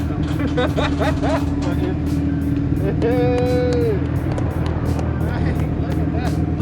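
A car idling with an HKS Super Dragger exhaust, a loud, steady, deep drone running throughout, with people talking close by over it.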